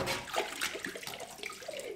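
Water sloshes and splashes steadily in a soapy kitchen sink during dishwashing, with soft gurgling and bubbling movement throughout, fairly close and moderately quiet.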